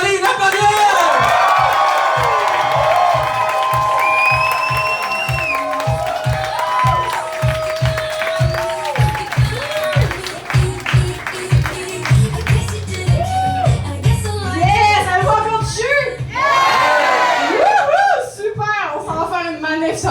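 A large audience at a comedy show cheers, whoops and claps hard, a loud, dense roar that stays up across the stretch with whistles and yells, and voices talk through it.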